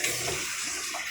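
Water draining from a Sharp automatic washing machine, a brief, steady close rush of flowing water with no voices.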